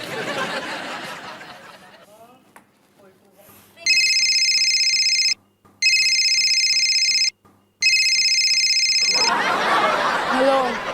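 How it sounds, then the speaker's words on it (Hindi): A telephone rings in two long electronic bursts with a short gap between, preceded by quiet talking and followed by voices and light laughter. "मैं अभी उसे फोन करके पूछता हूँ।"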